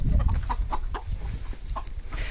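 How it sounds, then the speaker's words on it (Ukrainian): Chickens clucking nearby, short irregular bursts of hen calls with a young rooster among them, over a low rumbling background. "Молоденький півник, кілька курочок бігає"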